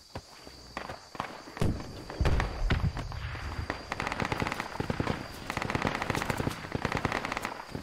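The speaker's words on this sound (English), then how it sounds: "They've seen an NZ firing at us" Rapid bursts of automatic gunfire in the tactical military shooter Project Reality, set in a jungle, crackling near and far in dense rattling volleys over a steady background hum, with some footstep-like shuffling.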